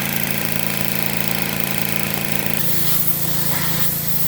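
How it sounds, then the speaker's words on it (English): A pressure washer sprays down a jet ski's dirty engine bay outdoors, a loud steady hiss of water over a droning motor, with the spray tone shifting partway through. "outside pressure washing off the jet ski, trying to get all the dirt out of the engine bay"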